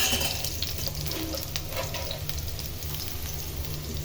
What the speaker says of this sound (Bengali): আমি কড়াইতে একটু তেল দিয়ে তার মধ্যে পেঁয়াজ আমি দিয়ে দিয়েছি